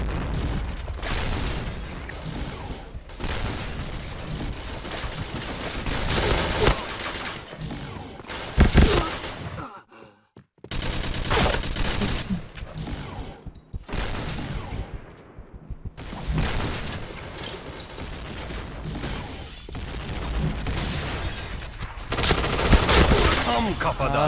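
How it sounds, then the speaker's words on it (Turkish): PUBG battle with dense, continuous gunfire, machine-gun bursts and grenade booms, loud and layered for most of the stretch, broken by a brief near-silent gap midway, while a player talks over the action. "Buradan bir iki tane bomba sallayalım bakalım oraya"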